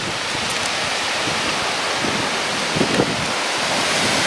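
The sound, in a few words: wind gusts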